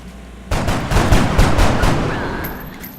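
Gunfire in the turn-based video game XCOM rings out as a sudden loud burst, followed by a rapid series of sharp shots and a lingering rumbling tail, with no talk over it.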